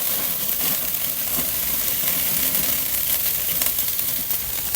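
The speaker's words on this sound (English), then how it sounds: "listen to that sizzle" Steady, broadband sizzling of skirt steak on a hot grill, continuous and close, with faint crackles scattered throughout and no talking.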